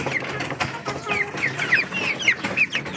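Broiler chickens clucking in a farm pen, a steady crowd of short clucks and chirps close by, with no talk.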